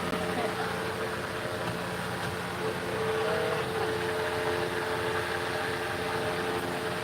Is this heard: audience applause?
no